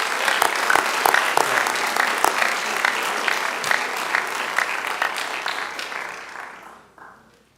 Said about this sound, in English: Please join me in one more round of applause for these athletic award winners.